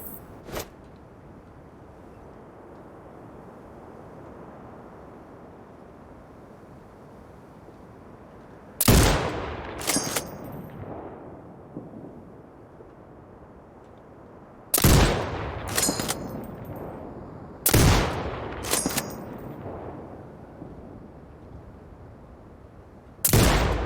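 Sniper rifle shots in the video game Sniper Ghost Warrior Contracts 2 ring out as a few loud, sharp cracks with short echoing tails, separated by long quiet stretches of faint ambient hum.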